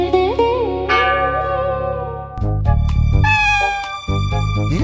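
A cat meows repeatedly in clear, drawn-out calls, some rising and falling in pitch, with a few sharp bell-like tones near the end.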